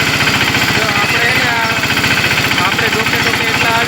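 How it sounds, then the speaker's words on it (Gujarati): A tractor engine chugs steadily in a fast, even rhythm while it is driven through a field, running loud and close throughout with a voice talking over it. "હું આ ટ્રેક્ટર હાંકું"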